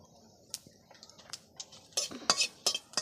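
Bay leaves, five-spice and dried red chilli stirred in hot white oil for mango chutney, giving a few soft spoon scrapes and light clinks that grow busier and louder toward the end, with faint sizzle underneath.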